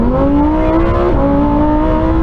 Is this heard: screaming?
no